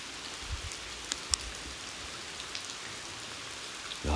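Heavy rain falls at a tunnel in Kanagawa at night, a dense steady hiss with scattered louder drips and splashes close by, and no talk.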